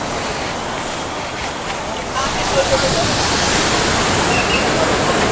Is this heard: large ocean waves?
yes